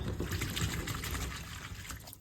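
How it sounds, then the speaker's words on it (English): Warm water with washing-up liquid pours and splashes steadily while a motorhome's plastic cover is being washed, a close, continuous liquid rush that thins out at the very end. "Bit of good old fairy liquid warm water."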